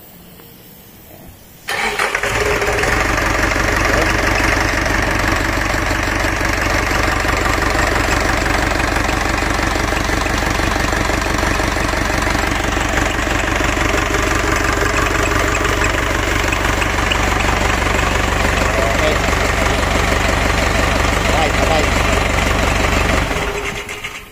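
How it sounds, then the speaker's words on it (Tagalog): A Caterpillar backhoe loader's overhauled Perkins diesel engine cranks and catches, then settles into a loud, steady idle that runs on for about twenty seconds before cutting off. "i-start na natin itong makina"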